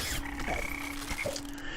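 A Dire Toad in the video game Hex gives a low, steady croak with a droning tone under game audio, a couple of short sharp accents partway through.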